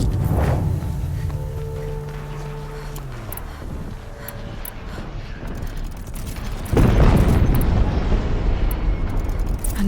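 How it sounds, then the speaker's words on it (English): Explosions in the Horizon Zero Dawn video game, with a low rumbling blast and mechanical game sounds, then a louder, denser burst of noise near the end of the clip. "An explosion."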